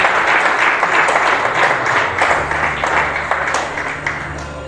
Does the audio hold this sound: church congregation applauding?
yes